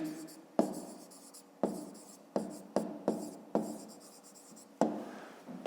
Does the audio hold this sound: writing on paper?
yes